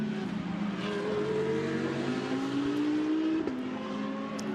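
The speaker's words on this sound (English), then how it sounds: "Brings the car down the pit road." An Aston Martin GT race car in a Pro-Am qualifying session at the Nürburgring rolls down pit lane with a steady engine drone and rising and falling gear tones, loud and close throughout, with no talking.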